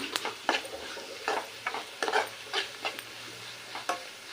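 Curry with ginger and turmeric being stirred and fried in a pan, with a soft sizzle under repeated scraping strokes of a spoon against the pan at an irregular rhythm, close and fairly quiet.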